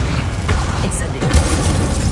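Incendio fire spell going off in a wizarding video game, a loud booming burst with crackling and a brief high shimmer, set against continuous game ambience.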